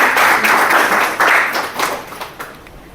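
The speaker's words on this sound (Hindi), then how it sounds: "तो मैं चाहूँगी इस प्रोडक्ट के लिए ज़ोरदार ताली" An audience at a health products presentation claps loudly, with the dense clapping coming in uneven surges and easing off over a few seconds.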